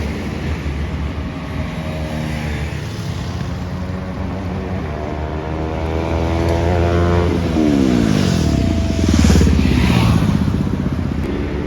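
KTM RC 200 and Yamaha R15 motorcycles drag racing, engines rising in pitch as they accelerate and pass close by, the roar swelling and peaking loud near the end.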